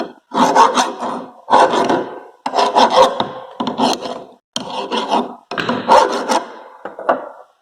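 A hand file rasps over a shaper model part to deburr it, in about six loud, close strokes separated by short pauses, each a gritty scraping sweep, with no talking.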